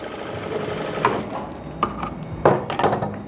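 A sewing machine stitches close to a fabric margin on belt-front, elastic-back trousers, running in short close bursts with clicks and thumps between runs, no talking.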